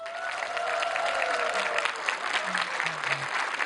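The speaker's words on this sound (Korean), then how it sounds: "서산에 와서 이렇게 큰 박수를 받을 줄이야" Audience applause greeting the host of a televised regional-issues talk event in Seosan, heard as a steady wash of clapping at moderate level, with faint voices and tones briefly rising through it.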